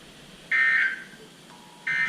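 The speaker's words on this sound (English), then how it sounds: "The warning alarm tone will be activated for hazardous conditions." NOAA weather radio emergency warning alert tone, two loud steady electronic tone bursts, the first about half a second long and the second starting near the end, over a faint radio hiss.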